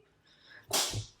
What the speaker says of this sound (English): My kid keeps sneezing.